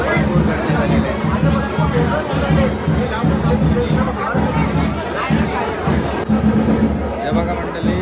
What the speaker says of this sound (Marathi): दर्शन घेण्यासाठी फोटोशूट करण्यासाठी भरपूर गर्दी झालेली आहे